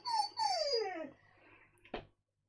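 A dog whines and whimpers indoors in two drawn-out, falling cries, then gives a short sharp yip, close to the mic while a recording session carries on.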